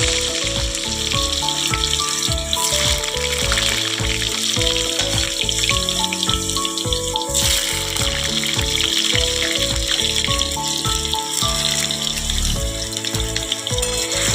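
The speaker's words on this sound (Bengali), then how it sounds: "আলুগুলা ভেজে নিতে হবে।" Potatoes frying in hot oil in a wok make a loud, continuous sizzle and crackle close up. The sound stays dense and steady throughout, with no voices over it.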